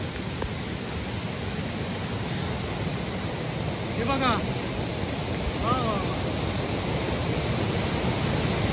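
The Devkund river rushes in full flood near Devkund waterfall during heavy rain, a loud, steady broadband roar of water that fills the whole clip, with a voice speaking briefly over it.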